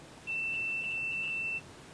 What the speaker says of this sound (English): that's what we're listening for, the beep.